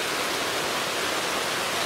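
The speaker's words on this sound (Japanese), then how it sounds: "すごい雨ですね。" Heavy rain pouring down at a rainy-season solo campsite with a Doma Dome Mesh 2 tent, a dense continuous hiss that is close and loud throughout, with no talking.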